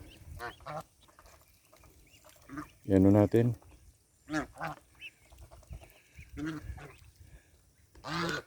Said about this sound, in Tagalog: Yan po yung uh, dalawang maingay na gansa.